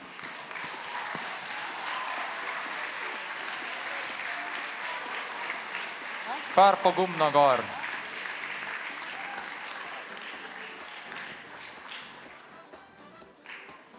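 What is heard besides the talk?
audience applause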